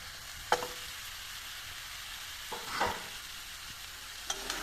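Potatoes being stirred into a frying Bengali-style jackfruit curry: a soft steady sizzle with a few scraping stirs of a spoon in the pan, close and quiet, no talking.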